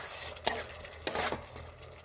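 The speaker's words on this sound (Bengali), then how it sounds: "দিয়ে ভালো করে আমি নেড়ে দেবো।" Ground chilli, cumin and coriander spices being stirred in a pan for mutter paneer, with two distinct scraping strokes against the pan over a faint kitchen background, no voices.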